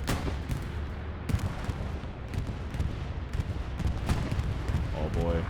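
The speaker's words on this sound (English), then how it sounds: "Looks like an enemy bombing run, FOC bombing run coming in" Repeated heavy blasts from a bombing run in the World War II shooter Hell Let Loose, several sharp booms landing over a dense, continuous roar of battlefield gunfire, with a brief voice near the end.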